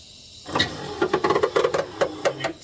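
A small electric power window motor in a C3 Corvette whirs and strains in short uneven bursts, close and fairly quiet, with faint clicking and grinding as the window moves up and down.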